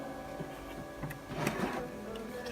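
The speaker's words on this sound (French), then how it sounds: "maintenant on va passer à l'imprimante. Donc je vais photocopier tout ça." A home printer photocopies pages for a DIY mini planner, its mechanism whirring and clattering steadily with a busier burst of feed noise midway, close and moderately loud with no talking.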